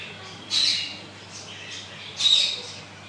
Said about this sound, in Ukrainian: Тут птахи. І попугні.